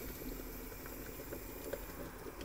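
Water with spaghetti at a steady rolling boil, a soft continuous bubbling hiss with faint pops, fairly quiet and close.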